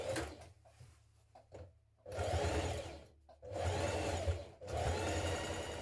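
Sewing machine stitching the back yoke of a jean jacket with a 1.5 cm seam allowance, running in three steady whirring bursts separated by short pauses, close and clear with no talk.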